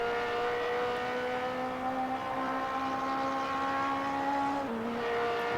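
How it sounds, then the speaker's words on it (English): A racing car engine drones and revs steadily at high pitch, loud and continuous, with a brief dip in pitch near the end. "You hear that engine really doing the work there."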